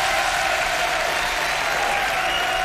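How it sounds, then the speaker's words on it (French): Dense, steady applause from a French TV studio audience fills the whole stretch, loud and even with no gaps. "On applaudit très fort, Jessica."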